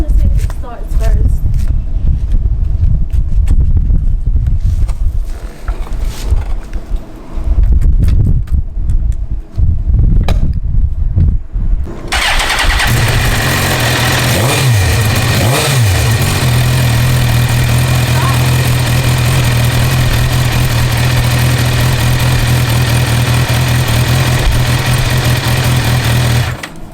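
A Suzuki GSX-R1000 motorcycle is started, and after some cranking and fumbling it catches and settles into a loud, steady idle that runs close by to the end of the clip. People talk over it.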